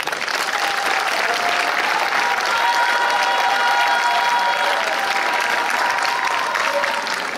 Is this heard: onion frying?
no